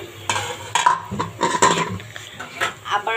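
A spoon stirs chal bhaja biryani in a cooking pot, giving irregular metallic scrapes and clinks up close with a faint sizzle underneath.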